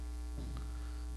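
A small hotel room fridge in a Nagahama, Japan hotel gives off a faint, steady electrical hum, with a brief soft rustle partway through.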